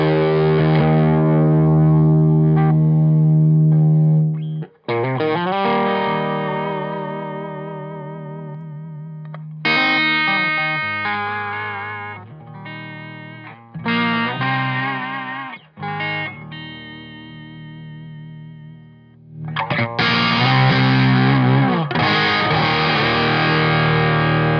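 A Smart Belle Golden Armadillo overdrive pedal drives an electric guitar into thick, woolly distortion: loud sustained chords and riffs with short pauses between phrases, played alone with no talking.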